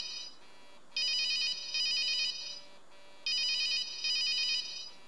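A phone rings in a horror video game about escaping a cursed abandoned ruin, two loud electronic double-ring bursts with a short gap between them, close and clear and heard alone.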